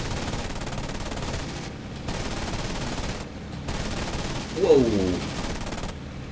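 The A6M2 Zero's machine guns fire in IL-2 1946, a rattling burst over the fighter's steady engine drone, followed by a brief surprised exclamation from a man.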